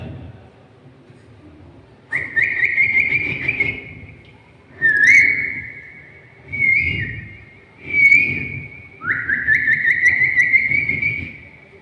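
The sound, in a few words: voice imitating birds chirping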